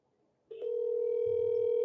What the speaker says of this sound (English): Got a dial tone.